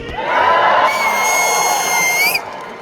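A convention audience roars and cheers for infinite pizza at a live panel in London, a loud sustained crowd noise with whoops and shrill screams rising over it, fading out after about two and a half seconds.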